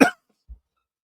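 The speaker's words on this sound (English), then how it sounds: "Excuse me for my cough." A man coughs once, sharp and close, during a lecture, then a faint low thump follows in otherwise silent air.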